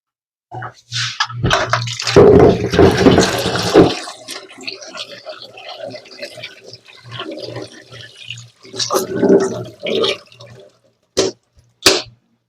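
Running water splashes in short bursts, with one longer gushing stretch early on, as chopped papaya is rinsed and washed nearby.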